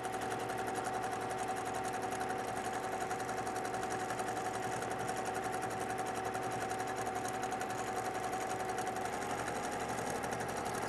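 A sewing machine runs continuously for free motion quilting on a flying geese block, a steady close mechanical whir and rapid needle rattle without pause.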